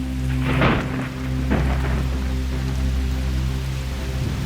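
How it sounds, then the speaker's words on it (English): Heavy thunderstorm with steady rain at night, two loud thunder rumbles rolling in near the start over a constant dense hiss of rainfall. "during the night, a heavy storm will come"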